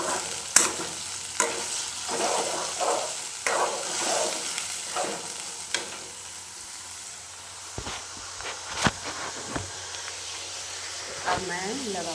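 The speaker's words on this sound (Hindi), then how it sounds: "ये देखिए, मैंने भिंडी और प्याज का तड़का दे दिया है।" Okra and onion sizzling in hot oil in a pan, a constant frying hiss broken by repeated scraping strokes of a spoon stirring, close up, with someone speaking over it.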